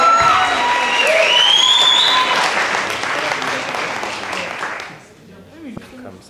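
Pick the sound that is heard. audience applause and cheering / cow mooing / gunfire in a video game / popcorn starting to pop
audience applause and cheering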